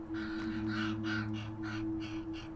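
Ravens give a run of about seven harsh, hoarse caws in a steady rhythm, moderately near, over a faint constant hum in the sagebrush outdoors.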